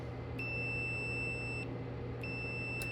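A multimeter set to continuity beeps steadily when its probes touch, two sustained tones separated by a brief gap over a low electrical hum.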